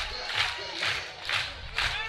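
A sparse crowd at a college softball game in Alabama cheers and shouts in rhythmic bursts, with four swelling waves of loud chanting at a steady pace.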